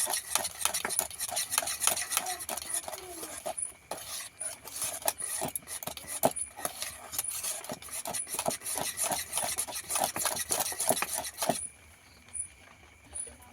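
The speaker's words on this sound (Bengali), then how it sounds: "সামান্য অল্প একটু লবণ দিয়ে দেবো একটু ভালো করে মিশিয়ে নিতে হবে" A spoon rasps and scrapes steadily around a bowl while fruit cake batter is mixed with a pinch of salt, rapid rhythmic stirring strokes close by, stopping near the end.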